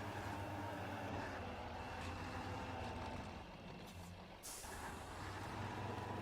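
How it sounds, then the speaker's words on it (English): Heavy truck in the Spintires video game backing out through deep mud, a steady low diesel drone with rumbling texture and a brief dip and hiss partway through, continuous and fairly loud. "I'm going to go ahead and back this truck back out."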